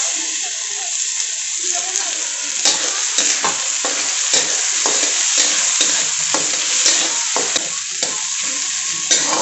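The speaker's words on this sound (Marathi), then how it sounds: "मी आता फुल गॅसवरतीच कांदा परतत आहे।" Onion and ripe tomato fry on full gas for a dhaba-style green peas paneer curry, a steady loud sizzle with frequent spoon-scraping stirs throughout.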